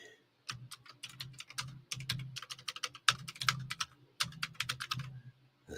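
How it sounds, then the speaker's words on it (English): Two hands tap away at a computer keyboard in quick, uneven bursts of crisp keystrokes, close and clear with brief pauses between runs. "The sound of one person, one hand typing with the other hand typing as well"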